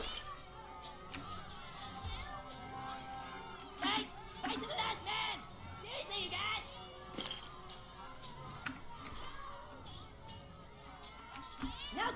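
A cat meows and yowls in the South Park: The Stick of Truth video game. The repeated cries sit amid busy game sounds and come through under a speaking voice.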